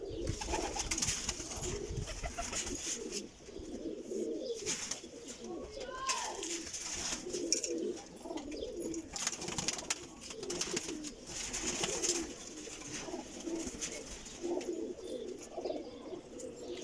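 Pigeons coo repeatedly nearby in soft, overlapping low calls, a continuous flock murmur with occasional rustling and faint chirps.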